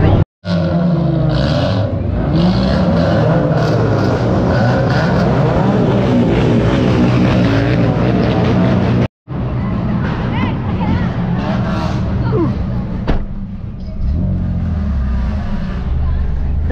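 A Honda Civic with a Japanese engine roars loud and steady at a college car show, its exhaust note droning nearly without break, with crowd babble mixed into the noise.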